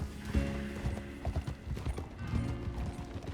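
Horse hooves clip-clop in the Red Dead Redemption 2 video game, a brisk galloping rhythm of close thuds under a low rumble and faint game sounds.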